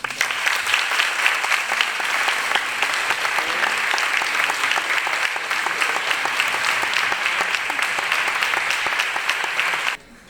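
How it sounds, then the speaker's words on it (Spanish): Sustained, dense applause from a conference audience welcoming the guest of honor, author Rosa Montero, at the ASELE 2024 congress, steady and full for about ten seconds before cutting off abruptly. "recibamos con un fuerte aplauso"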